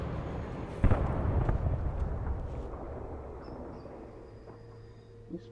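A big explosion in the video game Alan Wake, a sharp blast followed by a rolling, rumbling decay and a second burst, settling into low background rumble with faint game sounds.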